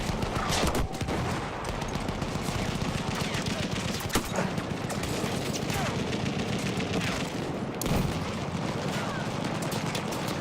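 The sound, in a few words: enemy machine gun fire in Battlefield 1 video game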